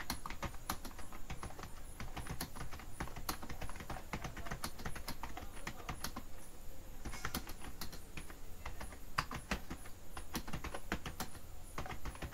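Keys clatter on a computer keyboard in quick, uneven bursts of typing, close and clear over a faint steady hum, with no talking.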